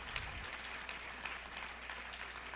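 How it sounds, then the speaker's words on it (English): School ceremony audience applauding a Blue Ribbon honor, soft, steady, even clapping at a distance with a low hum underneath. "please give yourself a nice round of applause for this honor and achievement"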